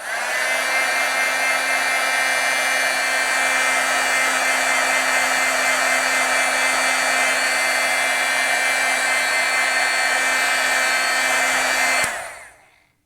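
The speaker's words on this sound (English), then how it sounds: "So I'll just do a quick heat set." A heat tool blows a loud, steady hum and whoosh as it heat-sets stamped vellum, running unbroken for about twelve seconds before switching off with a fading tail.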